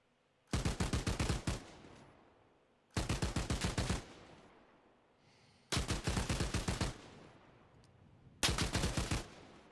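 Machine gun laying down heavy suppressive fire in Arma Reforger: four loud, sharp bursts of rapid rounds, each about a second long, separated by short pauses in a steady cadence, with no talk.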